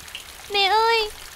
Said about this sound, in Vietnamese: mau lại đây tránh mưa đi